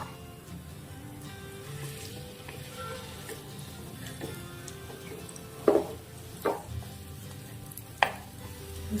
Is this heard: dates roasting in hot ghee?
yes